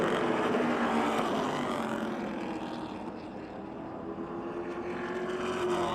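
Modified race cars roar around a speedway oval at the green flag for an eight-lap race, a continuous blended engine drone heard from a distance, fairly faint and steady throughout.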